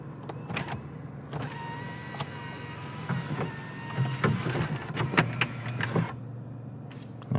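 The power sunroof shade on a 2021 Toyota Camry XLE moves along its track, a quiet electric motor hum punctuated by small clicks and taps inside the car, stopping after about six seconds.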